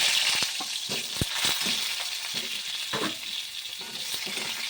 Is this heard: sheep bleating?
no